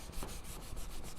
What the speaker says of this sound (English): All the sanding is basically one direction,